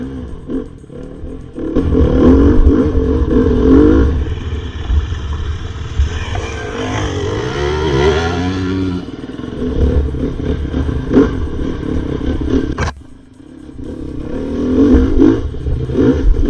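A 2019 Sherco 300 two-stroke enduro motorcycle revs loudly and close, the engine rising and falling in pitch through several throttle blips over a rough, clattering idle.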